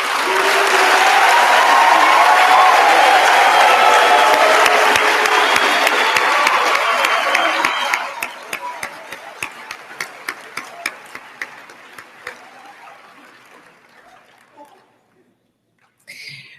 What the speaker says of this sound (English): all our graduates deserve another round of applause